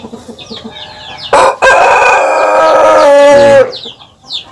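A free-range village rooster crows loudly and long, close by, with hens clucking softly before and after in a laying coop.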